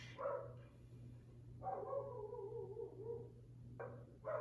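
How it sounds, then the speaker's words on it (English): A dog barks nearby in a few separate yelping bursts with long gaps between them. The barks sound fairly faint over a steady low hum. "I hope y'all can hear me over this barking dog"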